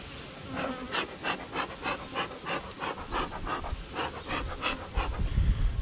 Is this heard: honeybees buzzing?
yes